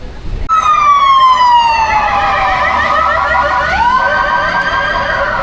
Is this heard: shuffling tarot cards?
no